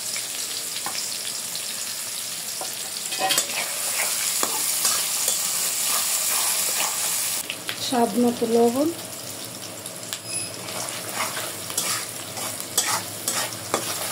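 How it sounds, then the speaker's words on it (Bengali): Onions frying in a pan with bay leaf and garam masala, a steady broadband sizzle with stirring scrapes, heard under a voice; a brief tonal sound rises near the middle. "পেঁয়াজটা ভাজা হয়ে গেছে।"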